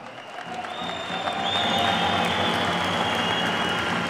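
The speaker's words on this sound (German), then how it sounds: "Erstmal einen großen Applaus für beide Boxer." An arena crowd at a professional boxing event applauds both fighters, the clapping building over the first second and then holding loud and continuous, with a faint murmur of cheering mixed in.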